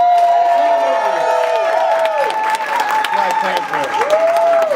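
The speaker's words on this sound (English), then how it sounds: "round of applause if you've seen the movie already." Convention crowd at a Black Panther panel erupts in loud applause with cheering and whoops, sustained clapping layered with shouted voices throughout.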